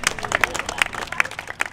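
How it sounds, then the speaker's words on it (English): Crowd applause at a Los Angeles Day of Remembrance gathering at a museum, a dense, steady patter of many hands clapping close by, with sharper individual claps standing out throughout. "Round of applause for them guys."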